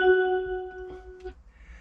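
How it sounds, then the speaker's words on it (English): Cell phone notification chime played through speakers fitted in a tractor cab, a short faint tonal ding with a few steady harmonics, followed by brief low rumble and clatter. "That sound was just my speakers for my cell phone."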